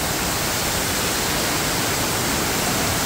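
A man-made waterfall fed by water coming out of rock, heard as a constant, loud, even rushing hiss with no pauses or voices.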